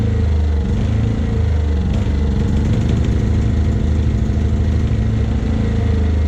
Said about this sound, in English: The other thing I found with this generator is it takes a while to warm up.